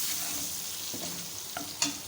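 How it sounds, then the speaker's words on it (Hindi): Mustard seeds and whole cumin fry in oil for masala bhindi, giving a soft, steady sizzle with a few small pops and crackles near the end. The sound is close but fairly quiet, with no speech. "थोड़ा सा राई दाना डाल दें और ज़ीरा डाल दें 1 टीस्पून साबुत।"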